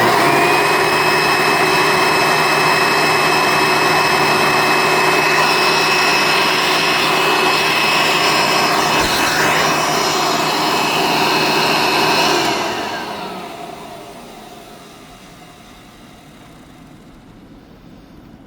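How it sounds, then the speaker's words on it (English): A 1990s Hoover Elite vacuum cleaner runs at a loud, high-pitched whine, then winds down after switch-off, its motor tone falling away into quiet; the motor needs some bearing work. "So here we go with the wind up and wind down of the Hoover Elite."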